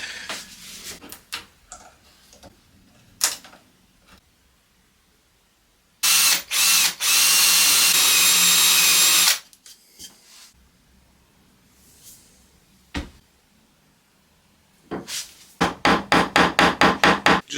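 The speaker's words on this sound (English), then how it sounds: "So this is a little plug cutter." Drill fitted with a small plug cutter working a piece of oak to cut wooden plugs for restoring a 1950s oak chair: scattered knocks and clicks, then a loud continuous whir for several seconds, later a rapid series of rhythmic ratcheting bursts.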